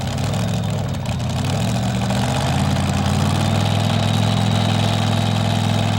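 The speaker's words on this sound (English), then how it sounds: "Lamont's Chevy packs a wallop" A Chevy-powered pulling tractor idles at the starting line of a 1987 Syracuse tractor pull, its loud deep engine rumbling steadily and close by without a break.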